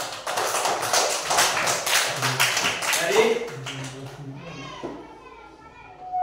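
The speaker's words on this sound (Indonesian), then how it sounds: "Ya, tepuk tangan." Children in a classroom clapping their hands, a quick burst of claps over chatter and young voices that fades into talk.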